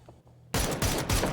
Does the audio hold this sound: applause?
no